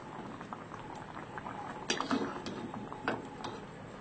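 Rice boiling in a pot with a faint, steady bubbling and light patter, broken by a few soft clicks and knocks, quiet and close with no one talking.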